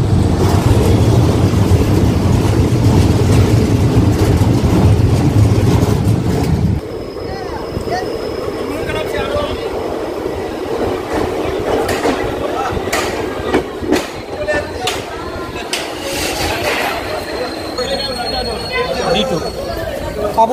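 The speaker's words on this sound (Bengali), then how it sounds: "অবশেষে প্রায় 48 মিনিট লেটে এই মুহূর্তে আমাদের ট্রেন পৌঁছালো আন্দুল রেলওয়ে স্টেশনে" A passenger train on the Kolkata to Digha special service rolls along with a loud, heavy rumble for several seconds, then eases into a quieter running noise with scattered clicks and rattles; people talk throughout.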